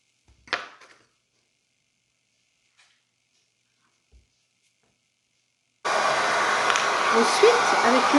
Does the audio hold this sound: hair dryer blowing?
yes